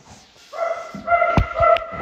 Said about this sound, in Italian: C'è un cane. C'è un cane.